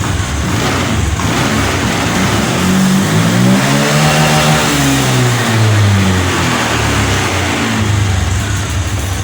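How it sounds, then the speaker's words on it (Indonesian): A 2022 Honda Scoopy scooter engine with a battery that keeps draining and a stalling fault runs loudly up close, its pitch rising and falling as the throttle is revved through the middle. "Sekarang ini motor menyala."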